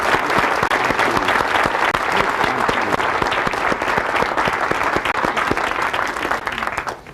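An audience applauds loudly and continuously after a Zig Ziglar speech, dense clapping sustained throughout before tapering slightly at the end.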